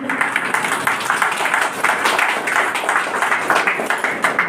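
A crowd at a farewell ceremony for loco pilots claps steadily and loudly, a dense, even wash of applause with no pauses.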